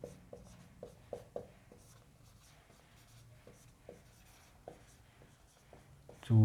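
A pen scratches across paper in short, soft strokes with small taps and pauses, close but quiet, ending in a sudden louder thump.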